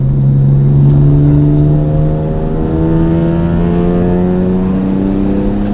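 Cabin drone from a Mitsubishi FTO Version R on a track, its engine humming steadily at low revs with a slowly rising and falling tone as it drives to warm the tires, loud and continuous with no talking.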